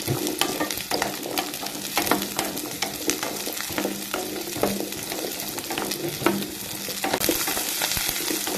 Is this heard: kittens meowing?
no